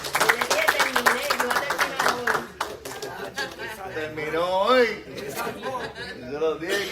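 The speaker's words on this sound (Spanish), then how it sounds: "Un aplauso." A congregation at a Wednesday Bible study claps in a ragged burst of applause mixed with chatter and light laughter, with a voice speaking over it.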